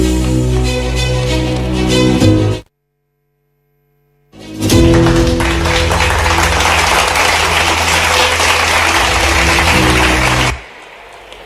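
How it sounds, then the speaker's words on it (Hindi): Loud, sustained applause from an audience at a public ceremony for medical college groundbreaking works, broken by a gap of near silence before clapping swells again and runs on for several seconds. "देवी सज्जनों, जोरदार ताली देकर स्वागत करें।"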